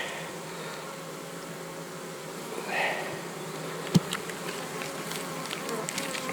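Honey bees buzzing around an open beehive full of honey, a steady close hum of many insects with one bee droning past near the microphone midway and a brief tap near the end.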